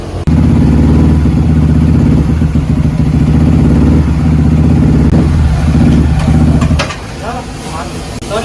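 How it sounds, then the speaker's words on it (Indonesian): A bored-up Yamaha R15 V3 motorcycle engine runs loud and close on a dyno, a steady throbbing idle with clattering, briefly revving before it cuts out near the end; a voice talks over it. "jadi ini gue lagi disuruh ngetes motornya, mau dibawa jalan di dyno aja gitu"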